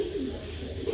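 Two old-bloodline racing pigeons, a male and a female, coo in a low, steady murmur close by, a soft continuous burble with no other sounds over it.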